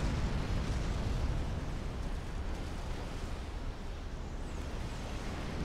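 Artillery fire and explosions in the real-time strategy game Supreme Commander rumble as a dense, continuous low barrage, heavy booms blending into one another at a steady loudness with no pauses.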